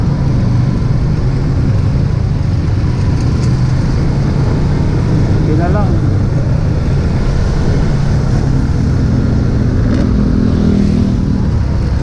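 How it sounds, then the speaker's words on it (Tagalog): Saturday road traffic on a Philippine highway heard from a Honda GTR 150 motorcycle ride: a constant loud drone of engines and wind rush, with a faint horn-like tone midway and occasional speech. "Kahit Sabado traffic talaga."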